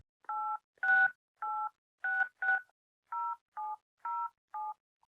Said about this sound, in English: let's dial into the Asher Group Telephone Time Punch access number